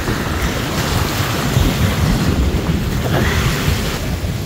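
Strong wind buffets and rumbles continuously, roaring against the microphone with a heavy low-end blustering and no voices.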